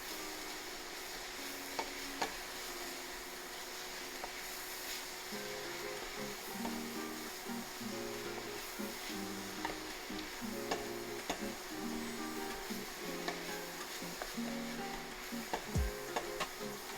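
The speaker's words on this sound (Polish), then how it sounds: "mieszamy." Chinese cabbage curry frying in a pan while being stirred, a steady soft sizzle with scraping and occasional light taps of the utensil, fairly quiet and close.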